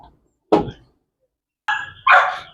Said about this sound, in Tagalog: Nakatali yung aso eh. Kaya nagwawala.